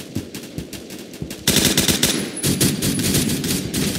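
Automatic rifle fire in the Roblox shooter Phantom Forces crackles in rapid, dense bursts, quieter at first and then loud and nearly continuous for the second half, with no talking.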